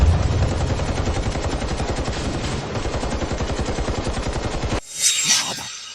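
Sustained automatic gunfire in a dramatic action scene, a dense, loud, rapid burst of shots lasting several seconds, then an abrupt stop followed by a brief hissing impact tail.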